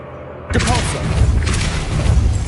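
A Depulso force spell cast in Hogwarts Legacy on PS5 lets out a sudden loud booming blast. A dense, sustained magical burst with a rumbling tail follows it, and no one speaks.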